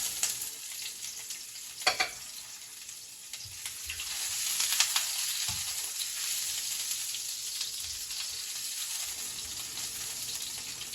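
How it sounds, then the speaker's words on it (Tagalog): Onion sautéing in a pan, a soft continuous sizzle with occasional stirring clinks and scrapes, faint and alone without speech. "At igigisa ko na ang ating sibuyas at kamatis."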